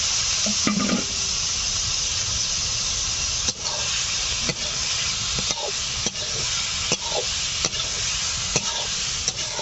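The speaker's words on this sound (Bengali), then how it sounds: "এখন সেদ্ধ করে রাখা কচি বাসি চিকেনগুলো দিয়ে দিলাম" Boiled chicken stirred into spices in a pan for bamboo-shoot curry, frying with a steady close sizzle while a spatula scrapes and knocks through it at irregular intervals.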